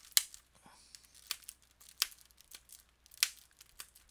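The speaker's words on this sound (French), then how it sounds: "Je vais le déballer, je vais vous montrer l'intérieur du boîtier." Crinkly plastic wrap tears and crumples off a Harry Potter DVD case in a series of sharp, close rustles and rips with short pauses, quiet overall and without talk.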